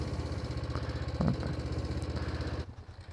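A Kawasaki Ninja 250 motorcycle engine runs roughly in cold winter air, with a pulsing, uneven idle that sputters midway and drops off near the end, faint and up close.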